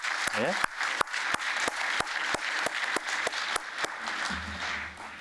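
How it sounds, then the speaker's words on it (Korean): Church congregation clapping in encouragement during a worship service, a moderate spread of applause with sharp individual claps standing out at a steady pace, brief talk near the end. "뜨거운 박수, 격려의 박수 한번 보내주시고요."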